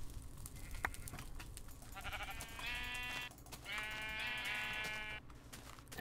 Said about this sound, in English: These sheep are just out of control.